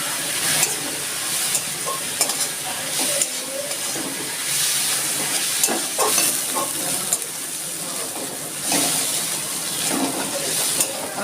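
Shrimp seasoned with a little salt and turmeric fry in a pan, giving a constant loud sizzle and hiss broken by repeated scraping and stirring strokes.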